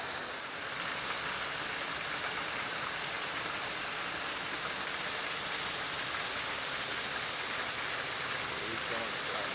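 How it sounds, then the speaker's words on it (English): A waterfall near a ranch drive in Sevierville, Tennessee roars steadily as a dense, unbroken wash of falling water, loud and close throughout with no clear voices. "Beautiful waterfall as you come up to the drive."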